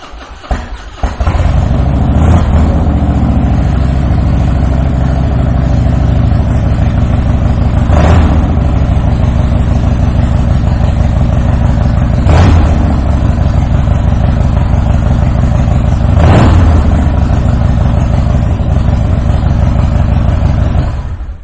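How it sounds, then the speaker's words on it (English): A 2004 Harley-Davidson Dyna Low Rider fitted with Vance and Hines pipes fires up and idles loudly and close, with a deep, steady rumble broken by four sharp throttle blips spaced several seconds apart. "I am going to fire this bike up so you can hear these pipes on this bike."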